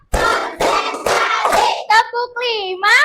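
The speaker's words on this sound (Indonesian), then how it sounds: "Oke, tepuk konsentrasi." Students in a classroom doing a rhythmic concentration clap, several sharp group claps in a row followed by children's voices chanting together, close and fairly loud.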